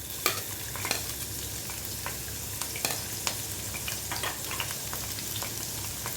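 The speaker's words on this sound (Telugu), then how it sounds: "ఆయిల్ హీట్ ఎక్కిందండి, కాస్త ఆనియన్స్ వేసుకోవాలి." Onions sizzle in hot oil in a pan while being stirred, giving a continuous close crackling fry with scattered pops and scraping stirs, no voices.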